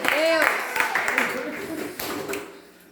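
A church congregation claps in scattered, uneven beats during a Portuguese-language service, with a voice calling out over the claps at first before the clapping thins and fades.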